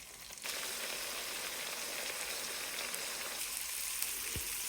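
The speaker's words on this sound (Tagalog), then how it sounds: "Then fry natin yung potatoes. Tapos yung carrots." Potatoes and carrots frying in a pan for an egg afritada, with a steady soft sizzle starting abruptly and holding evenly throughout, no voices over it.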